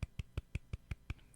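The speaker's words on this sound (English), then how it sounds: "I'll just sit here and give myself a golf clap" A slow, deliberate polite golf clap: seven soft, evenly spaced single claps from one person, close and quiet, with nothing else around them.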